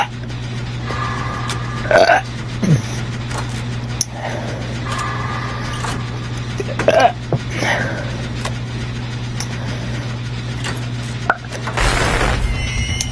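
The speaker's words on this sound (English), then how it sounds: "Those were wine burps." A series of short, deep wine burps, several separate belches spaced out over a steady low background hum, close to the microphone, with no talk between them.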